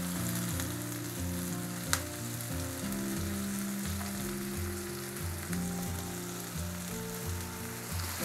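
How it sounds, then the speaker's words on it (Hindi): Chicken tikka pieces fry in a pan with a steady, close sizzle and crackle, broken by a sharp pop, while background music plays along underneath. "चिकन पीसेस को मैं फ्लिप करके दूसरी साइड से भी सेक लूंगी"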